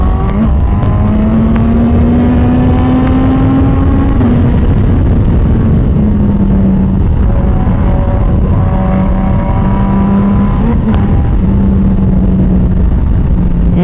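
BMW HP4 superbike pulling hard from third gear on a circuit ride, a loud, close engine note climbing in pitch, easing and rising again over nearly fourteen seconds with no talking.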